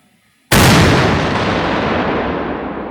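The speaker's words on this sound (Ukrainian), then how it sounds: "Воїни швидко готують снаряди та міномет до роботи, наводяться на ціль." A single sharp, powerful blast from a Ukrainian mortar firing near Kreminna erupts after a brief quiet, followed by a long, loud rumbling decay that slowly fades.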